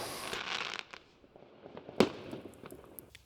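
New Year's Eve fireworks crackle and fizz in a dense burst early on, then settle into scattered distant pops with one sharp loud bang near the middle and lighter crackles trailing after.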